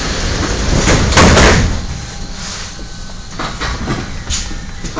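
Doors of a Budapest M3 metro train slide shut with a loud thump and rattle, followed by the rumbling hum of the carriage as it begins to move.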